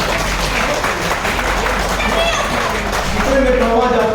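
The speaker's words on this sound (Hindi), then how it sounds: "एक बार जोरदार ताली बजा के समर्थन।" Loud, dense applause from an audience at a Hindi motivational talk, steady clapping filling the whole stretch with a murmur of crowd noise underneath.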